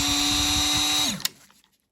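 Milwaukee 2485-20 brushless right angle die grinder with an extra coarse Saburrtoo burr spinning at high speed in a loud steady whine, then switched off and winding down quickly, followed by a few light clicks and handling sounds.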